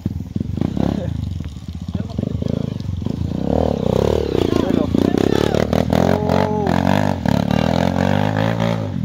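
A motorcycle rides a dirt trail, its engine revving and rising loudly up close with clattering over rough ground, while people talk over it.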